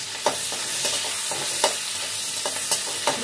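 Onions fry in a pan with a continuous crackling sizzle, broken by regular scraping knocks of a spoon stirring them, close and fairly loud.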